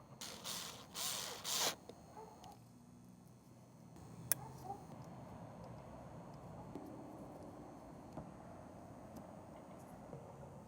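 A Phillips number 1 screwdriver turns a tiny screw down on a Ubiquiti UniFi G6 PTZ camera mount, giving faint ratcheting mechanical clicks after some brief handling rustles, all quiet and close against a steady background hum.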